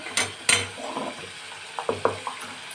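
Spinach pulao masala with ginger and garam masala is sautéed in a pan, with a spoon scraping and clacking in short, uneven strokes over a soft sizzle, close by, without talk.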